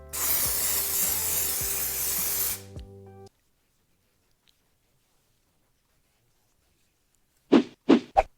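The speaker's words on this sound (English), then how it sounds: "This is Salon Graphics High Beams Intense Temporary Spray-On Hair Color." Salon Graphics High Beams Intense Temporary Spray-On Hair Color hisses from the can in one continuous close burst of about two and a half seconds, followed by silence and a few brief handling sounds near the end.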